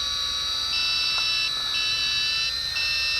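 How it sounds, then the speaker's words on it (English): A shrill electronic headless-mode tone from a WLToys Q222G toy drone beeps continuously, shifting pitch in a repeating pattern, loud and close over a steady whir. "Headless mode's got that annoying beep."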